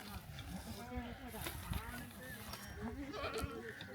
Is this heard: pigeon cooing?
no